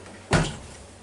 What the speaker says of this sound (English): Now the next thing we're going to do is shut the door